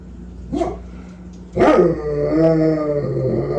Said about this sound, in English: So my dog has been barking at anything.